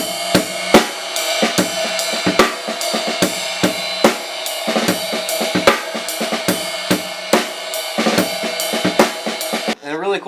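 A drum kit plays a basic groove on ride cymbal, snare with ghost notes and bass drum, a steady ringing ride pattern punctuated by regular kick and snare hits, close and loud with no talking.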